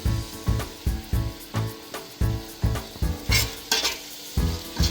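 Chicken sizzles and fries in hot oil for a Nati-style chicken biryani while garam masala, chilli powder, pepper powder and turmeric go in, with steady rhythmic stirring strokes and scraping in the pot throughout.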